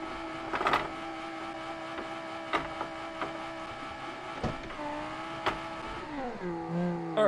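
Viper concept car in the BeamNG driving game revving its engine in several sharp bursts, with a rising and falling engine tone and a final rev toward the end, moderately loud and without talk.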